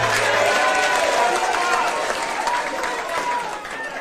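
Crowd applause and cheering fill a Kenyan political rally as Raila Odinga is welcomed to the stage, a dense, loud wash of clapping and voices holding steady throughout.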